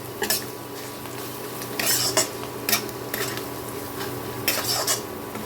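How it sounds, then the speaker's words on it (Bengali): A spoon mixes turmeric and sambar masala in a pan, giving several bright metallic scrapes and clinks in irregular bursts over a steady low background hum, close and unaccompanied by speech. "এখন এগুলোকে ভালো করে একটু মিশিয়ে নেবো"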